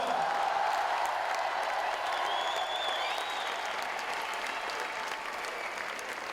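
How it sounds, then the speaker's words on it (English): Steady applause from a large crowd at the men's lead climbing final of a world championship in Paris, honoring a climber from Chamonix; dense, sustained clapping fills the space evenly and tapers slightly near the end, with faint voices mixed in. "Tonnerre d'applaudissements pour le Chamonniard, Monsieur Romain Desgranges"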